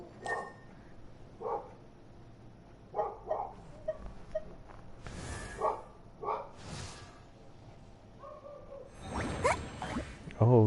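Dogs bark in the video game Genshin Impact: several short, sharp yips and woofs in scattered bursts over a quiet background, with one louder cluster near the end.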